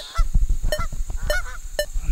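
Goose honks in an audio hunting game: several loud, nasal calls spaced irregularly across two seconds over a low rumbling backdrop, with no talk.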